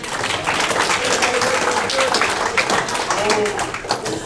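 An audience applauds a band member's introduction at a live show, a dense, steady patter of many hands clapping close by, with cheers and a voice faintly under it.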